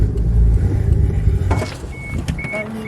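A Toyota Supra MK3 with a 1JZ VVT-i engine burbles at close range: a low, rumbling idle with uneven pulses, followed by some faint clicks and short high tones.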